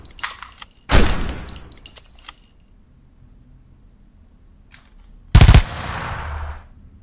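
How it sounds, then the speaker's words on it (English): Two gunfire sound effects, a single rifle shot followed by a short assault rifle burst, each a sharp loud crack trailing into an echoing decay, separated by quiet. "So we've got the single shot and we've got the assault rifle."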